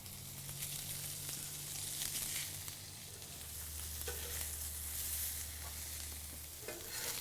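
Pineapple sizzles and crackles on a hot plancha set on a PK grill, a steady, dense frying hiss that holds throughout at moderate loudness, with a low hum in the background.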